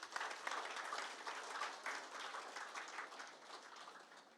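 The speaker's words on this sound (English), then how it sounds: "A big round of applause for them" Sustained applause from an audience at a capstone showcase event, dense clapping that stays steady and moderately loud for several seconds before easing slightly.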